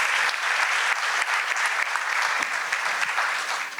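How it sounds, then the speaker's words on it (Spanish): An audience at a BNI Talks business event for women leaders breaks into sustained, dense applause, steady and close for several seconds. "Un fuerte aplauso."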